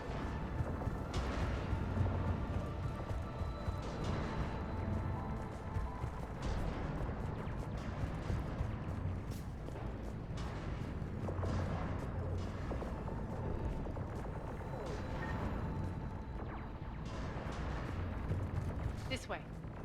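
Heavy cannon fire in Mass Effect 3, a dense rumbling barrage of booms and blasts rolling continuously without pause, with voices talking over it.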